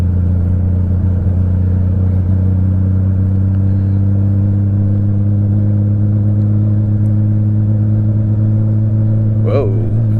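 A Honda Goldwing motorcycle engine droning steadily and loudly while riding, a deep constant hum with rushing wind noise and a brief rising whine near the end.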